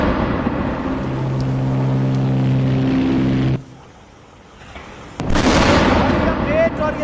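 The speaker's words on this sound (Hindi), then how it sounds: "इस धमाके की आवाज को सुनिए, महसूस करिए, इस डर को समझिए" Iranian missile strike explosion in Ashdod, Israel, with a loud roar and a low hum, a sudden near-silence, then a sharp crack and another burst of heavy blast noise.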